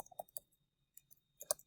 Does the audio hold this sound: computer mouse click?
yes